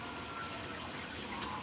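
Water is poured onto a potted Aglaonema plant, making a soft, continuous splashing gush that stays quiet and even throughout.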